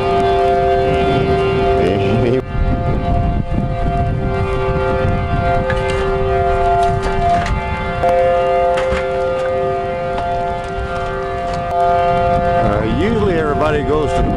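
Civil defense tornado warning siren in Amarillo, a loud steady wail with rising and falling pitch that runs through the whole stretch, people talking beneath it.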